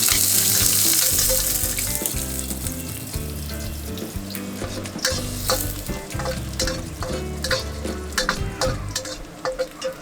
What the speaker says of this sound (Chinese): 猪油融化，加蒜片和干辣椒快速爆香。